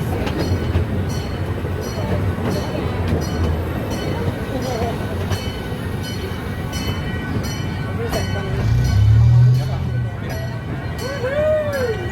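The Santa Barbara Zoo train rolls steadily along its track with a continuous rumble and clickety-clack, a near and loud ride, with a guide talking over it and a brief wheel squeal.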